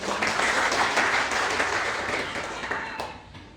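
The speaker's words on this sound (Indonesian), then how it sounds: "beri tepuk tangan dulu dong untuk semua" Applause from a crowd at the opening of an anti-bullying outreach event, steady clapping that fills the room and slowly tapers toward the end.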